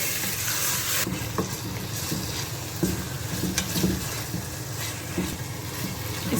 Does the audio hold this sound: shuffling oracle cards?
no